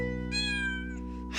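A cat gives a single drawn-out meow near a fire engine, close and clear over a steady low engine hum, followed by a brief rustle.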